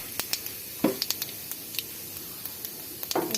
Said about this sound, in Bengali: তেলটা গরম হয়ে গেলে এতে আমরা দিয়ে দিচ্ছি গোটা জিরে